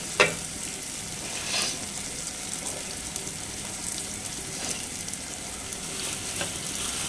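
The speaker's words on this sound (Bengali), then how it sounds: "আমি এখন আরেকটু নাড়াচাড়া করে দিব" Goat head curry with chana dal frying in a pan gives a continuous close sizzle, broken by occasional scrapes and stirring knocks of a spoon.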